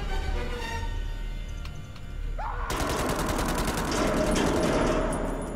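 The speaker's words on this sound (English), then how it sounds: "I'm finna shoot this boy." Rapid bursts of gunfire from the horror video game Man of Medan erupt partway through, loud and sustained, with closely spaced shots over a quieter ambient background.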